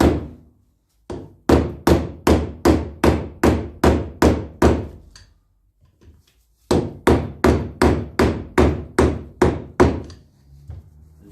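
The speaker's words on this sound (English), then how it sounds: "Rubber hammer." Rubber hammer seating a part into a Land Rover Series 3 rear wheel bearing housing: two runs of about ten loud, evenly spaced dull blows, separated by a short pause, with a couple of softer taps between.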